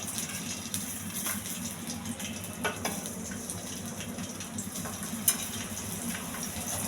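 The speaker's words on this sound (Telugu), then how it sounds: "పెనం హీట్ అవ్వాలి. కొంచెం నూనె, వెల్లుల్లిపాయలు," Garlic sizzles in hot oil in a pan, a quiet continuous crackling hiss with occasional utensil scrapes and a clink, heard close up with no talk.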